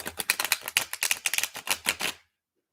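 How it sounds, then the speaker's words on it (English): A deck of tarot cards is shuffled, a rapid run of close, crisp riffling snaps for about two seconds that stops abruptly into silence. "I hope when I shuffle it this time"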